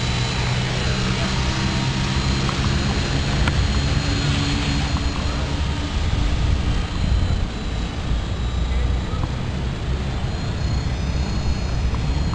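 A remote-control helicopter, an Esky FP2 or Compy FP, flies nearby with a steady, continuous whir and buzz that holds evenly throughout, while a voice talks faintly underneath.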